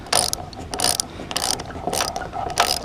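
A ratchet wrench clicks in quick repeated bursts while loosening and backing out a bolt during a light bar install on an FJ Cruiser, close and loud with short pauses between strokes.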